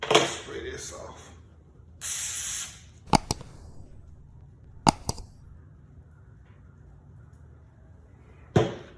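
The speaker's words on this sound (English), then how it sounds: "Spray this off." A Husqvarna 455 chainsaw part is sprayed off during handle replacement, with two short hissing spray bursts near the start, then sharp clicks and knocks of handling tools and parts between quiet gaps.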